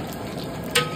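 Vegetables fry in hot oil with black cumin, fennel, chilli and bay leaves, a steady close sizzle with a brief louder spit near the end.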